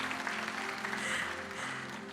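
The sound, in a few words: applause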